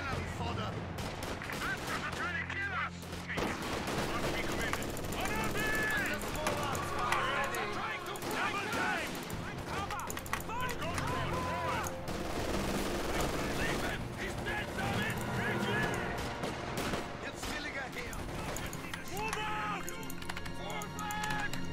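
Machine gun fire rattles through a Company of Heroes 2 battle, in repeated bursts mixed with other game effects and a continuous layer of talk throughout.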